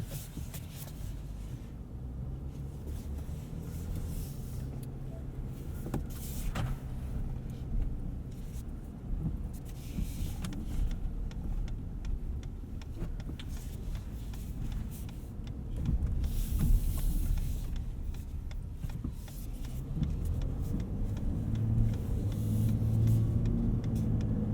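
A 2018 Ford F-150 Powerstroke diesel pickup in four-wheel drive auto pulls away on a greasy road, a steady low engine rumble and road noise that swells slightly as it accelerates, heard from inside the cab.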